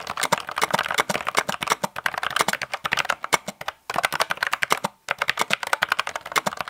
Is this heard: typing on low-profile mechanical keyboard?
yes